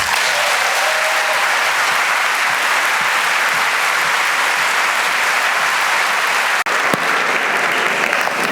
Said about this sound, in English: let's cheer for our new students.